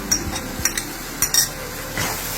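Green chili, ginger and garlic paste stirred in a hot pan for pumpkin curry, scattered scraping strokes of a spoon against the metal over a soft background sizzle, close and fairly quiet.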